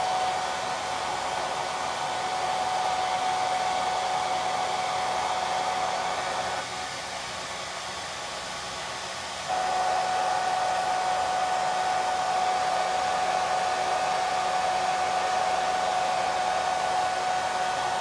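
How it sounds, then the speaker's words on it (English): A hair dryer running on its lower, quieter cool setting, blowing steadily while drying a small wooden ornament, with a constant close whoosh and a brief dip in intensity partway through, no talking. "So now I'll dry it. This is a cool setting that's lower, so it's quieter and it doesn't tend to dry as fast"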